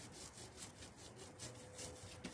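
Quiet, rhythmic scrubbing of a stiff brush working over a motorcycle chain, a steady rasping stroke repeated several times.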